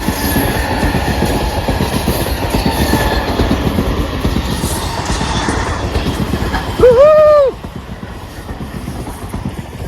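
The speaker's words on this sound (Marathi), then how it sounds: "इकडून ट्रेन येणार आहे" A train rumbles past with a steady clatter of wheels on rails, then a loud horn sounds briefly before the rumble continues.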